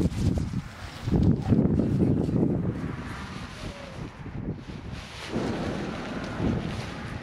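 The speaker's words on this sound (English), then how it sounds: "the wind's getting up, typically as I'm about to put up a fly sheet" Chilly winter wind gusting at a campsite while a Hubba Hubba NX 2 tent fly sheet is pitched, loud roaring buffeting on the microphone that rises and falls in waves, with no talking.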